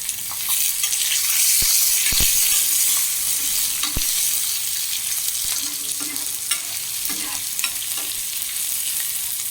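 Onion, garlic and chillies fry in oil, a bright, continuous hissing sizzle with a few faint knocks and scrapes of a spoon in the pan, no voices.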